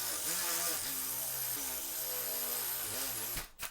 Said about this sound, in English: I'm going to drill it out with a 5/16 drill bit.